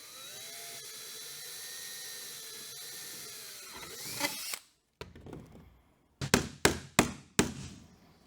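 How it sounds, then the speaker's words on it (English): A power drill bores holes in a kayak hull for line studs, starting with a steady whine that rises, then cuts out, followed by several short, sharp bursts of drilling up close. "we're going to drill it out and then tap them in."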